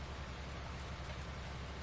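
Steady rain falls in the farming video game Farming Simulator 19, a dense even hiss of drops with no pauses and no voices.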